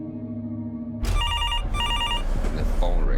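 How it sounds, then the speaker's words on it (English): Very loud telephone bell ringing at night, two sharp repeated trills cutting in abruptly over a low background hum, close and harsh. "the phone rings. I don't think I ever heard a phone ring so loud."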